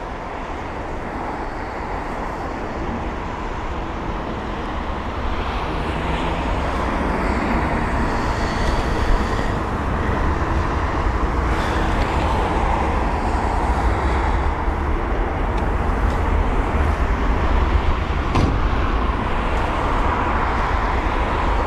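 An Emirates A380 at London Heathrow roars with a broad, steadily rising jet rumble that swells and holds loud over about twenty seconds, heard from a distance without voices.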